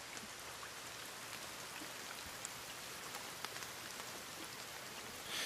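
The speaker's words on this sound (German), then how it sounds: "Es regnet" Steady rainfall in the survival video game The Forest, a constant hiss of drops falling on surfaces, soft and unbroken with no voices.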